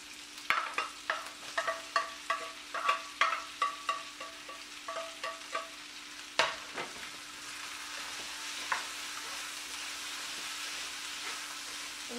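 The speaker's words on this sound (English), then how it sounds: "And now we'll throw in the onions and the garlic." Onions and garlic hit a hot pan with firmer vegetables for Korean black bean sauce noodles, giving rhythmic clacks of stirring for several seconds before settling into a steady close sizzle over a faint constant hum.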